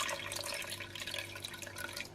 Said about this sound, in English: just got final quarter of a cup of water going in